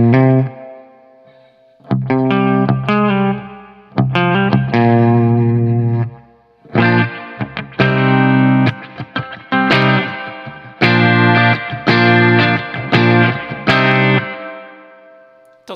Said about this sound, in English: I'm on the 63 spring model. Big Sky.